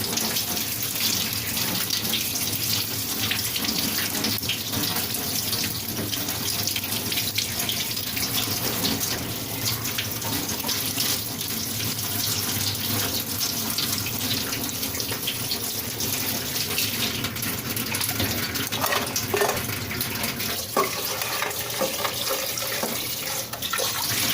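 Tap water runs steadily into a sink while cut crab pieces are washed, with a continuous close splash and occasional clatters of handling, with no talk.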